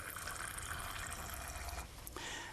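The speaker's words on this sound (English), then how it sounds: "if I take this charged rod and I allow some water to run down, I see that we get quite a considerable attraction" A thin stream of water runs and splashes steadily past a charged rod, a faint continuous trickle with a brief dip near the end and no talk.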